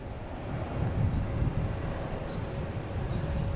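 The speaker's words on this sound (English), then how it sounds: "And we got WestJet coming in soon, it looks like." WestJet airliner approaching to land at Boston Logan International Airport, a steady low engine rumble with wind buffeting the microphone, fairly distant and continuous with no one talking.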